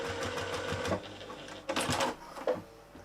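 A sewing machine stitches a fabric bag in a steady run of close, even clatter, with a few brief louder bursts from handling partway through.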